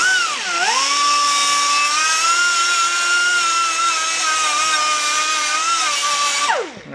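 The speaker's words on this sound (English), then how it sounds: "I'm going to use a drum sander here real quick." A drum sander grinding a Datsun 521 ball joint part runs as one continuous whine that dips briefly near the start, then holds steady for several seconds before winding down at the end.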